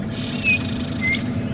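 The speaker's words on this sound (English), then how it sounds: "All kinds of birds calling throughout." Birds call after rain at Djuma Game Reserve, with two short, thin whistled chirps standing out over a low, constant rumble of background noise.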